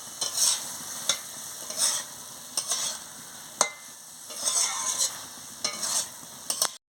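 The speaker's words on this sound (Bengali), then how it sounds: "দেখুন বন্ধুরা, আমি ভালো করে এটাকে কষিয়ে নিচ্ছি।" Telakucha leaves, stems, potato and eggplant are stir-fried in a pan: a constant gentle sizzle with rhythmic bursts of spatula scraping and occasional sharp taps against the pan, heard close and alone.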